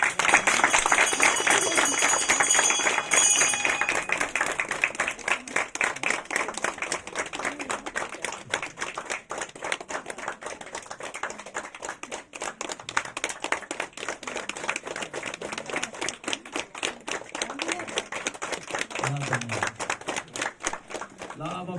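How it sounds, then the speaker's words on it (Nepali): Rhythmic clapping from a small group of people, steady and fairly close, runs throughout a gathering, with dense mixed noise early on and voices talking underneath. "ल ताली लगाइदिनु"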